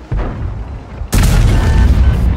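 A tank cannon fires in World of Tanks, near the SDP wz 66 Grom anti-tank gun. One loud, sharp boom cuts through a low rumbling battle background partway through.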